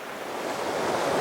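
Rushing water at the Lohnbach waterfall in a wintry setting about 150 km from Vienna, a steady broadband roar of flowing water growing slightly louder, with no voices.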